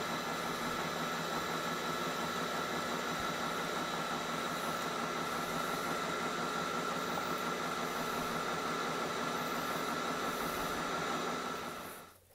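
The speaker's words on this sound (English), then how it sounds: "And the final trick was doing some parting off" A lathe runs steadily while a high-speed steel tool parts off the workpiece, giving a constant dense whirring and hissing drone at close range that stays even for about twelve seconds and then cuts out.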